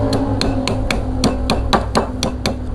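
Piece of wood tapped against a jet water pump part during motor rewinding, about ten sharp knocks at a steady quick rhythm, close and loud with no talk.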